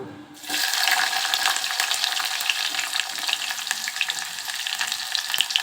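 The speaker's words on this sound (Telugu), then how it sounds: "ఇప్పుడు ఆనియన్స్ వేసేస్తున్నాను" Onions drop into hot oil in a pan while cooking pepper rasam, bursting into a loud, steady sizzle right after a brief quiet opening and hissing continuously to the end.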